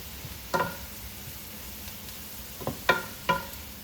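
Pasta tossed with a heap of grated pecorino romano in a hot pan, a steady soft sizzle with three sharp clinks of a utensil scraping and stirring against the pan.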